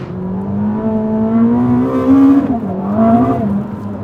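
Ferrari SF90, a 1000hp plug-in hybrid mid-engine hypercar, driven hard on a UK track, its engine note climbing steadily under load, dipping briefly on a shift, then rising again, loud and close with no talking.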